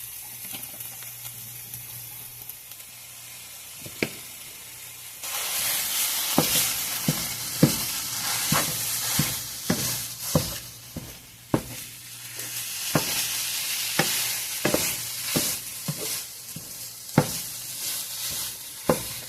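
Half ground beef and half Italian sausage fry in a pan, a steady sizzle that jumps louder partway through, broken by regular spatula scrapes as the meat is stirred and broken up.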